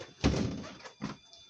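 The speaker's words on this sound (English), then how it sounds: "So what I'm going to do is I'm going to swing this door open," A motorhome bathroom door swings open with a solid thunk, followed a moment later by a softer second knock as it settles, close up in a small interior.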